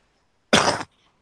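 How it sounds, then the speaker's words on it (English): A single short, harsh cough bursts out once, close and alone against an otherwise quiet background. "I'm just going to mute and have a good cough."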